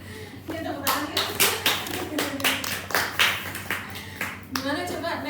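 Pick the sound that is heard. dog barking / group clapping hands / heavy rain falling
group clapping hands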